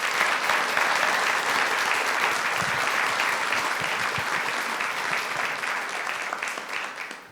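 Warm applause from an audience at a community conversation event, a dense, steady wash of clapping that carries for several seconds and gradually thins toward the end, with no voices over it.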